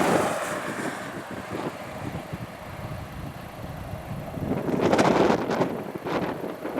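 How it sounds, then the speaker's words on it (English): Wind buffets a microphone outdoors at exposed Cairnryan Port in Scotland in a low, steady rumble, with a brief louder gust near the end and no talking. "you can hear the wind in the background there"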